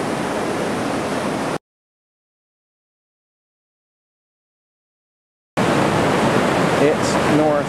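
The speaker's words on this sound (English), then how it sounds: "the water is moving really, really quickly." Fast-flowing floodwater rushes in a Muskoka flood, a loud, steady broadband roar that drops out for a few seconds of silence and then returns just as strong.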